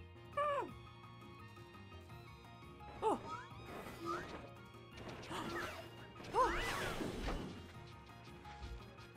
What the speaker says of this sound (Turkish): Dikkat! Ray kırılıyor.